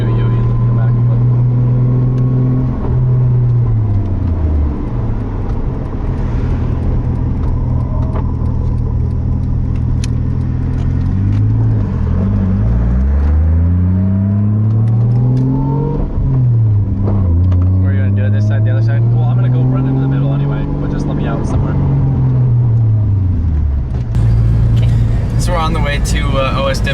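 A car running a stock Toyota 1JZ engine swap drives along, its engine note rising and falling through repeated rev sweeps and gear changes, loud and close, with voices talking inside the cabin.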